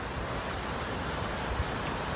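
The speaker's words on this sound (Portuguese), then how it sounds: "Porque também escuto sons. Não só das ondas do mar" Sea waves wash in a steady, dense roar of surf, loud and unbroken for the whole stretch.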